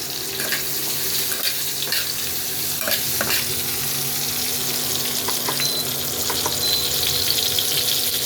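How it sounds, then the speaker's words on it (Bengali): Boiled potatoes frying with turmeric in a kadai, a steady broadband sizzle with faint scraping stirs throughout, close and continuous with no talking. "আমি হলুদ দিয়ে একটু ভেজে নিই।"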